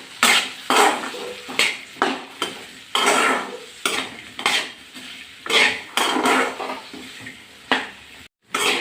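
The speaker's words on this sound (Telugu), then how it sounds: "చేసుకున్న బెండకాయ ముక్కలను ఆయిల్లో వేయించుకోవాలి బాగా కలుచుకోవాలి" Okra pieces with curry leaves frying in oil in a pan, stirred with a metal spatula that scrapes and clinks against the pan in repeated bursts, loud and close, with no one talking.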